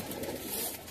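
Golden pigeon cooing softly, a faint brief coo close by against quiet background noise.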